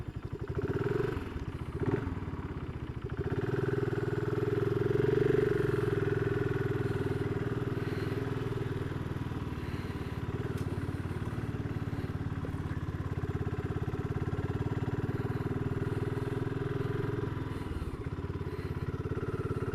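A BSA Gold Star 650 motorcycle engine runs steadily throughout, a continuous throaty rumble as it rides along the road with slight changes in revs.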